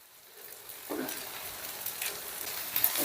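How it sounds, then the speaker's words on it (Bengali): Eggs fry in a pan over low heat with a soft, continuous sizzle that builds after a quiet start, punctuated by light scrapes as they are turned. "এবারে ডিমগুলোকে আমি উল্টে পাল্টে দিচ্ছি। মানে এই পোর্শনটা তো অতিরিক্ত নরম আছে, তাই একটু ভেজে দিচ্ছি।"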